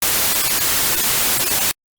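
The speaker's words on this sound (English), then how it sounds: "If I play some white noise" White noise test signal, a loud steady broadband hiss that holds evenly and then cuts off abruptly.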